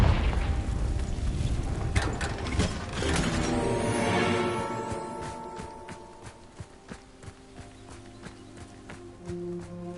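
Confringo spell explosions in Hogwarts Legacy, a loud burst followed by a rushing fiery swell and scattered crackles, then quieter thuds and impacts trailing off.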